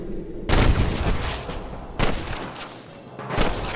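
Several loud gunshots ring out in a Red Dead Redemption shootout at a camp, sharp booming blasts at roughly half a second, two seconds and three and a half seconds, each trailing into echoing rumble with no voices.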